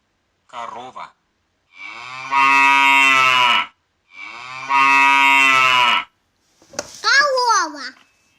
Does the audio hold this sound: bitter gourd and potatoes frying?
no